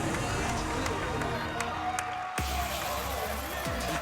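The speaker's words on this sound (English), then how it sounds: "the crowd is chanting for Ben" Crowd noise at a DDR A3 dance game tournament, a dense steady roar of spectators that shifts abruptly partway through, with music and game sounds running underneath throughout.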